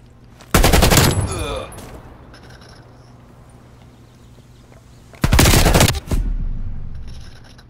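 Automatic weapon fire in Call of Duty: Black Ops Cold War comes in two loud, close rapid bursts a few seconds apart, with quieter game ambience and clatter filling the gap between them.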